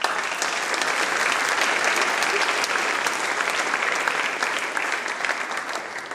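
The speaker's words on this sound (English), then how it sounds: "I want you guys to give yourself a round of applause" Sustained applause from an audience at a high school senior awards ceremony, dense and steady clapping filling the whole stretch without pause, fading slightly toward the end.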